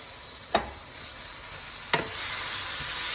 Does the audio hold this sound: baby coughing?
no